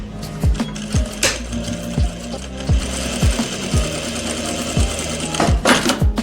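Sewing machine stitching a kurta shoulder seam, loud and close, with a steady mechanical whir and a run of regular needle thumps that keep the same even rhythm throughout.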